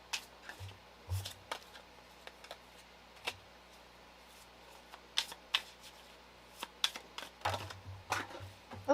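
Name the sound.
handling and shuffling tarot cards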